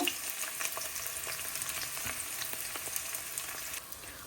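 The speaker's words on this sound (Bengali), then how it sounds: "এখানে আমি সবার আগে শুকনো মরিচ দিয়ে নিই ও রসুনও দিব" Dried red chilies and frozen garlic fry in hot oil, giving a steady, close sizzle with scattered crackles and pops that continue alone without any talking.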